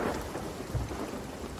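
Thunderstorm on the open sea in a pirate game, a dense roar of rain and rumbling thunder filling the air steadily with no voices.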